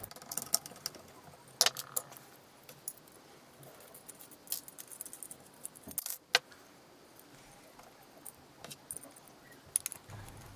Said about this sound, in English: Time to disconnect and take apart the old motor support assembly.